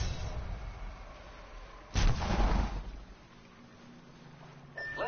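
Apex Legends gunfire: a single heavy shot or blast bursts out suddenly, rings briefly with a rumbling tail, then fades into quiet game ambience.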